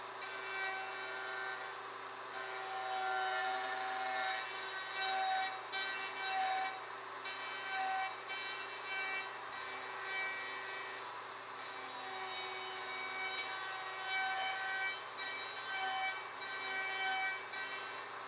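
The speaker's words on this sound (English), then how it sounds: "Route between each of the pins, making sure all waste is removed." A router with a Leigh RTJ400 jig cutting dovetail pins in a wooden pin board, a steady, fairly loud whine that holds continuously with slight swells as the bit moves between pins.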